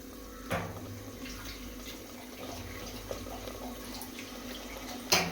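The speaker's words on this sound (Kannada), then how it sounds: "ಅಮ್ಮ ಈಗ ನೀರು ಹಾಕ್ತಾರೆ." Water running into a cooking pot during home preparation of ghee chicken biryani, a steady close stream from start to finish with a brief clatter near the beginning and another near the end.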